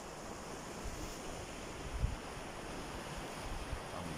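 Sea waves wash against the shore below a seaside viewpoint while wind buffets the microphone in a steady, continuous roar, with one brief low thump and no voices.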